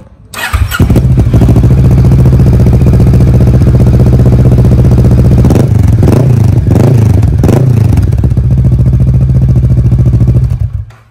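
A Kawasaki ER6n two-cylinder motorcycle engine starts and idles loudly up close, a steady low parallel-twin rumble with a few brief revs near the middle before it cuts off.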